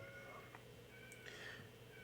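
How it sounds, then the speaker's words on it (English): Cat meowing faintly in a quiet room during a lap steel guitar lesson, a couple of short high calls over low background hum. "Who's meowing at me?"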